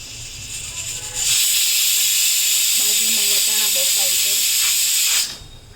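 Spices tempered in hot oil for sambar burst into a loud, sustained hissing sizzle that lasts about four seconds and then cuts off, with a voice speaking briefly under it.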